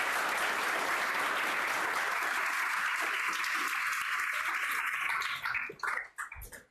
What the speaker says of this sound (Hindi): सभी के लिए एक बार ताली बजाओ और बधाई दो